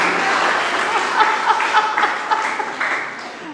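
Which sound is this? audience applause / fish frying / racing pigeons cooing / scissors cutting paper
audience applause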